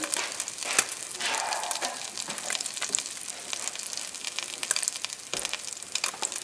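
Chicken thighs, paillard style, sizzle in a frying pan over moderate heat, giving a steady crackling hiss with scattered sharp pops throughout, close and fairly loud with no talking.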